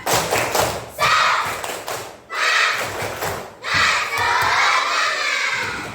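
Schoolchildren in a classroom do the 'tepuk semangat' clapping chant, heavy rhythmic claps and thumps alternating with energetic shouted group calls across several loud phrases.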